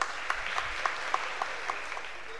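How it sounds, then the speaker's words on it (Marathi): Applause at the opening ceremony of an annual cultural festival following a song, a fairly faint crowd clapping with a rhythmic pattern of regular louder claps over a soft steady patter. "एकदा जोरदार टाळ्या होऊन जाऊ देत."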